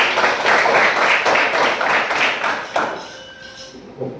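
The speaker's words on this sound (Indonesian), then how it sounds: "Oke, tepuk tangan." Classroom of students clapping together, a loud burst of rhythmic claps that fades out after about three seconds, leaving a quieter room with a few scattered taps.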